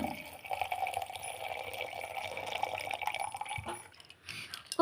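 Hibiscus juice is poured steadily into a cup, a continuous liquid trickle that runs for several seconds, then stops with a few light clinks at the end.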